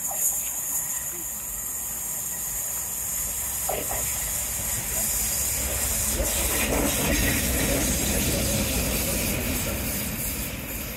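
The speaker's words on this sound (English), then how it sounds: "Oh, we'll do it as soon as this train's gone. Oh look, it's another special," A double-headed steam train rumbles past close by on a seawall, with a constant hiss of steam and a heavy mechanical roar that builds and holds.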